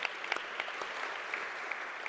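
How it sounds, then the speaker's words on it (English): A town hall audience in Milwaukee applauds, a short, faint burst of scattered clapping heard from a distance with no voices. "I'll pause for applause for my dad."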